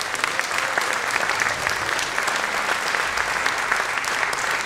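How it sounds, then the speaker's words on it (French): Sustained, loud applause from a congress audience at the FFAP 2019 magic federation opening ceremony, a dense even wash of clapping hands with no break or speech over it. "je vous demande de l'applaudir très fort"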